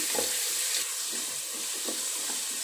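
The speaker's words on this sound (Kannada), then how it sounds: "ಸೊ ಈಗ ಟೊಮೆಟೊ ಬೇಯ್ತಾ ಇದೆ" Tomatoes cook in a pan for soybean vegetable biryani, giving a soft, continuous sizzle with faint stirring scrapes and no voices.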